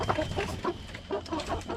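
Baby chicks in a large coop cluck and peep in quick, overlapping calls, with rustling and scuffling as they move around. They are close and moderately loud.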